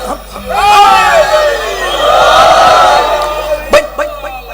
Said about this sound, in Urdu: آپ نے بڑے نعرے لگا دیے ہیں